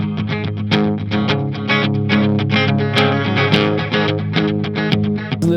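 A distorted electric guitar through a Mooer Prime M2 plays chords and notes with a shimmering, wavering modulation effect, loud and steady throughout.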